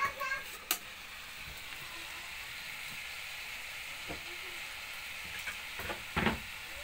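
Pakbet vegetables and shrimp cook in a pan with a faint, steady sizzle, punctuated by a few knocks and scrapes of stirring and brief background voices.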